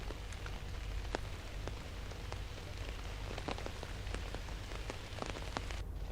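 Heavy rain pours steadily through a forest, a dense continuous hiss with scattered sharp drops striking nearby surfaces throughout, no voices.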